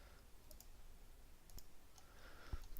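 Sharp computer mouse clicks, a few isolated taps spaced irregularly over a quiet background, faint and close, with no talk.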